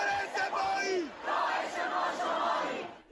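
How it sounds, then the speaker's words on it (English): A crowd at an anti-government protest in Tehran shouts and chants in unison, a loud burst of many voices rising and falling over about three seconds. "In Tehran, crowds shouted for Iran's supreme leader, Ayatollah Khamenei, to step down."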